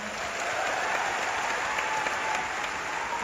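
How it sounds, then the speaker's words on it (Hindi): An indoor audience at a success-day event claps loudly and continuously, a dense, even wall of applause with no pauses. "एक बार उनके लिए जोरदार तालियां।"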